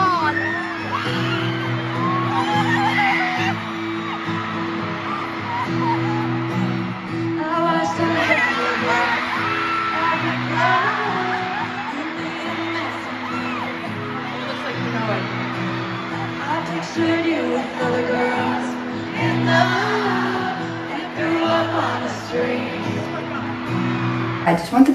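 A large crowd at a concert in Chicago screams, whoops and yells continuously, loud and dense throughout, with a nearby voice shouting amid the roar.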